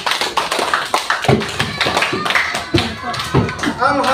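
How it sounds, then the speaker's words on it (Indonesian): A class claps for a student group after its presentation, a loose burst of hand claps with voices talking over it close by. "Kita kasih tepuk tangan untuk kelompok 4."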